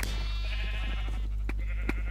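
A Minecraft sheep bleats once in a long, wavering tone, then gives two shorter bleats, close and clear over a steady low hum, with no talk.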